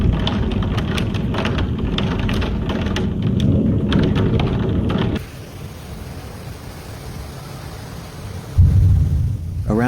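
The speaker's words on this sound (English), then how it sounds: "Hail, strong winds, lightning strikes, and intense rainfall rapidly formed into a moving line of severe thunderstorms" Heavy rain pours loudly during a severe thunderstorm in the Netherlands, a dense continuous hiss with deep rumbling under it that drops in level midway before a sharp low burst of thunder near the end.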